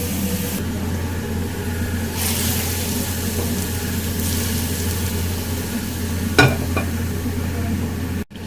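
A soft, steady sizzle of hot golden-brown onion tempering poured onto cooked lentils hisses under a low background hum, with a sharp clink near the end and a sudden cutoff.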